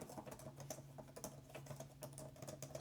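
Typing on the tactile keyboard of an Asus ROG Flow Z13, a quiet, fairly fast patter of light key clicks with an even, irregular rhythm and a low steady hum underneath.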